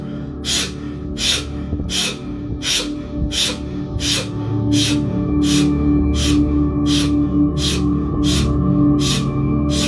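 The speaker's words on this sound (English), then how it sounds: "Now, deep inhalation in through the mouth." Someone in a breathwork session takes a series of deep, rapid breaths through the mouth, about a dozen evenly spaced airy gasps, close and loud, over faint background music.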